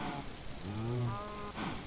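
A Minecraft cow gives one drawn-out, low moo in the middle, with fainter farm-animal sounds around it and no voices.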